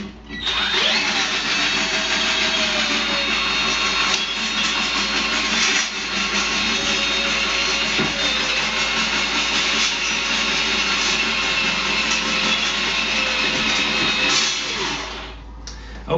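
A Popoman 20v cordless drain cleaner auger spins clockwise inside a clogged toilet, giving a loud, steady motor whine with a rattling, churning edge. It runs continuously for about fifteen seconds, then winds down.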